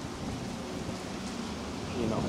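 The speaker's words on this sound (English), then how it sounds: "I didn't get out because it was raining, as you can see." Steady rain falling in Tokyo, a dense continuous hiss with no gaps that swells slightly toward the end, with no one talking.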